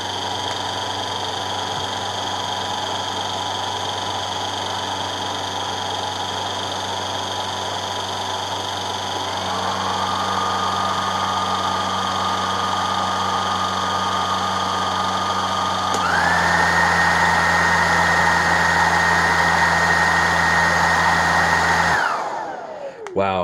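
A Dreametech T10 cordless stick vacuum with a smaller nozzle runs on low, giving a steady, close whine that steps up in pitch twice before powering down at the end.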